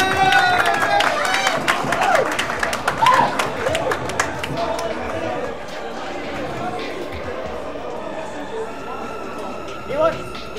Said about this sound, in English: A big round of applause for Infiltration.